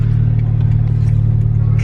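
A Subaru WRX engine rumbling steadily nearby, a deep continuous low drone with no talk over it.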